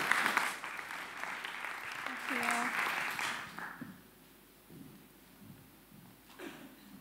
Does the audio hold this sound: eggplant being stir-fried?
no